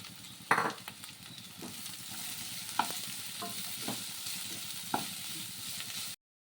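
Chicken, onion and capsicum frying in a pan are stirred, with a steady sizzle throughout and several sharp scrape-and-clatter strokes of the spoon against the pan, close and clear with no talk.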